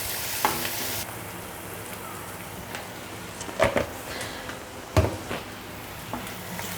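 Ginger and onion fry in oil for a paneer curry, a hissing sizzle that softens after the first second, with a few dull knocks and scrapes of stirring against the pan.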